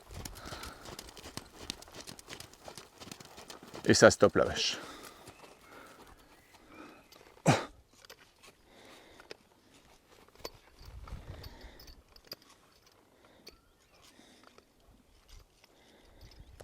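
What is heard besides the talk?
horse hooves while working cattle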